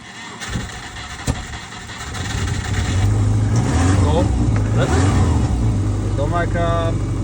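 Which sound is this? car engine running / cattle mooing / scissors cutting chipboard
car engine running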